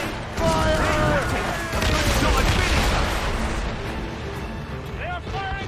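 Ship cannon and mortar fire during a naval battle in Assassin's Creed Rogue, a dense, loud barrage of booms with crew voices shouting orders over the din.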